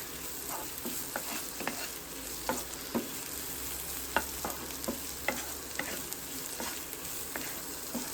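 Potato curry fries in a pan with a soft constant sizzle while a spoon stirs it in repeated scraping strokes, close and quiet, with no talking.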